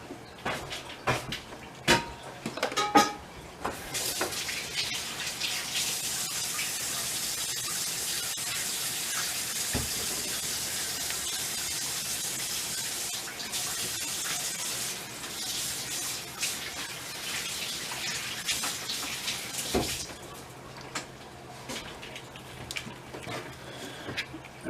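Water runs steadily from a tap for about twenty seconds while a knife is washed after cutting ham, with a few knocks and clatters at the start and a faint shift near the end.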